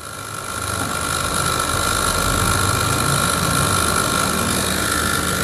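An electric motor runs with its speed set by an AC-DC buck converter, giving a steady close hum and whir that swells up in the first second, then holds even.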